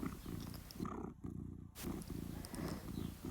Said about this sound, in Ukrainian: На цьому відео він ще грається, мурчить